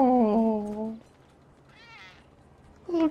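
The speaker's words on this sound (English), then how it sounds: "Was that a cat?" Two clear cat meows in the video game Grand Theft Auto V, one drawn-out and one short, separated by a quiet pause with a faint higher chirp between them.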